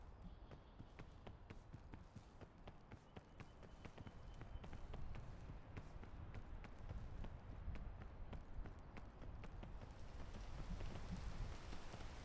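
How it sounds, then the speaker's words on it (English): Rain falls in the video game PEAK, a steady, dense patter of drops that thickens midway, quiet and continuous with no voices over it. "It's rain."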